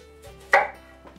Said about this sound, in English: I don't know what I'm doing when I'm cutting onions